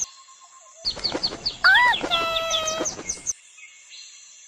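Three baby chicks fallen into a hole, heard as a cartoon-style burst of rapid high chirps and peeps, several calls overlapping for a couple of seconds, loud and close, ending abruptly.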